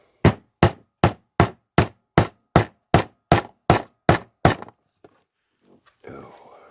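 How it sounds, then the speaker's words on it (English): A small leather working hammer beats on a leather holster with about fourteen evenly spaced, sharp knocks, close and loud, then stops, leaving a few faint sounds. "Take this little leather working hammer here and"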